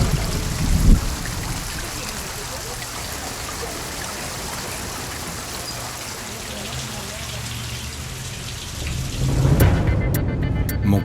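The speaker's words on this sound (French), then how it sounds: "Première averse." A first heavy rain shower at a gold-mining site pours steadily and loud, a dense hiss with a low rumble of thunder early on and a stronger swell near the end.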